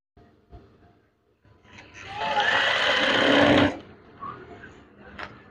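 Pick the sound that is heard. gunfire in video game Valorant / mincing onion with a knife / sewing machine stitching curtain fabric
sewing machine stitching curtain fabric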